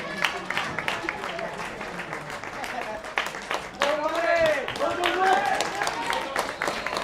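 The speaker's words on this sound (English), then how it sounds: "It's getting a fine applause around the ground." Football crowd around the ground at a Northern Premier League match, Hyde United v Marine, applauding a substituted player leaving the pitch; steady broad clapping mixed with crowd noise and some voices throughout.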